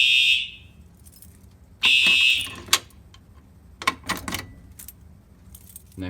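A home fire alarm system sounds during a pull station walk test, with two loud high-pitched electronic bursts about two seconds apart, followed by jangling, clinking metallic rattles.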